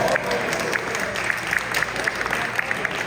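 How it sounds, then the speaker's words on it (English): An audience applauding at an inaugural community event, a steady patter of many claps with a few sharp individual claps standing out and faint crowd murmur beneath. "Let's give a round of applause."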